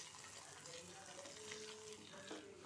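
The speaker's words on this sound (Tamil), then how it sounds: "கடுகு வெடிக்க ஆரம்பிச்சிடுச்சு" Mustard seeds crackle and sizzle in hot oil for a South Indian buttermilk curry, a soft, steady frying hiss with faint pops and light stirring, quiet and close, no one talking.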